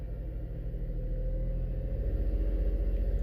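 A car engine with a misfire being revved to around 2000 RPM, giving a steady low rumble with an audible rhythmic pulsing that grows stronger toward the end, heard close and alone.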